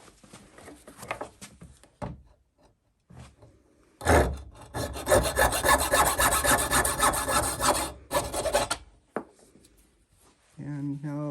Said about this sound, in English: I'm going to saw this off with my hacksaw.